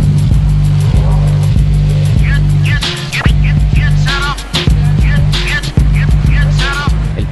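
An Enzo Ferrari sports car with a 6-litre V12 engine and Formula 1-derived transmission drones loudly and steadily, its engine note rising and falling through revs with sharp shifts, close and continuous throughout.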